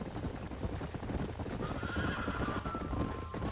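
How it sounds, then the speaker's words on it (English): Horses in the video game Red Dead Redemption clip-clop in a quick rhythmic patter up close, with a whinny rising over the hoofbeats partway through. "These are fine horses."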